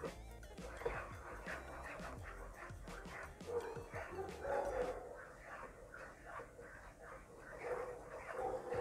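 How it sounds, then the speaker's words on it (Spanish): A small dog barks and yips repeatedly in short, uneven bursts, fairly faint, with indistinct voices and background noise around it. "Escuchan ahí todos los ladridos, los niños pasando, mi perrita ladrando."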